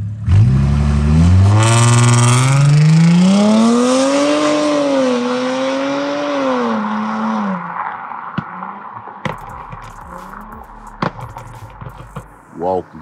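A car engine revs up loudly through an exhaust with its valve open, the pitch rising and holding, then drops to idle with sharp pops and crackles.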